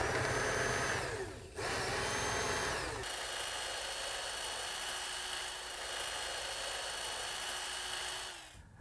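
A power drill bores drainage holes in the bottom of a wooden window box. The motor whines in close bursts, briefly stops and restarts, then holds a steady buzzing run before winding down.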